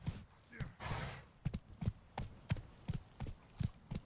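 Roach the horse's hooves clip-clop at a steady walking rhythm in The Witcher 3, distinct thuds after a brief breathy snort, fairly close and moderately quiet.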